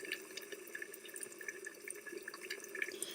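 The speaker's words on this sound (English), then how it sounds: "We can see the water is boiling." Water boiling in an open electric kettle, a faint continuous bubbling and gurgling with small popping bursts, quiet and close.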